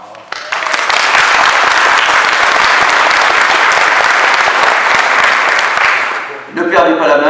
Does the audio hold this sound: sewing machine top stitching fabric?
no